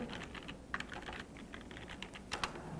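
Keystrokes on a computer keyboard entering a search query, a quick run of close, moderately quiet clicks with a couple of louder taps near the end, no voices.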